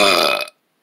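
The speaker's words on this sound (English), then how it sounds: "have I ever told you guys about the loudest legendary burp?" A single loud, long burp, close and alone, lasting about half a second before cutting off to silence.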